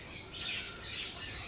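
Parrots squawk and chatter in a run of harsh, high calls that overlap and go on without a break, fairly faint and a little distant.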